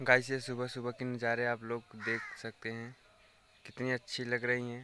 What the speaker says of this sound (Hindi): और कौवे भी सुबह सुबह बोल रहे हैं